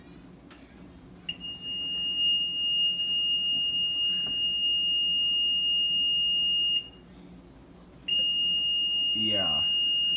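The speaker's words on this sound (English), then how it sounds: "Okay, why are you beeping?" A faulty Maytag Neptune washing machine with an error sounds a continuous shrill electronic tone that stops briefly and then resumes, loud and close, with a voice speaking underneath.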